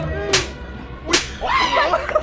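Two sharp, loud slaps land about a second apart as a playful punishment among friends, each a crisp smack, followed by people talking.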